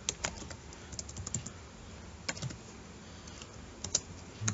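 Quick clicking keystrokes on a computer keyboard come in short irregular flurries with brief pauses, close and fairly quiet, with no talking.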